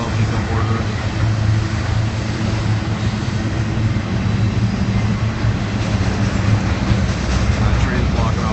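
A passing train near a burning ranch stable on Bluff Road in Montebello, a loud, steady low rumble and roar of rail cars rolling by, sustained and close for the whole stretch.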